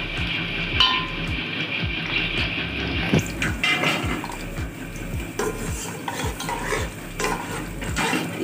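Cumin seeds fry and sizzle in a pan with whole spices for palak gosht while a spoon scrapes and stirs in a steady repeating rhythm, with occasional clinks of metal against the pan.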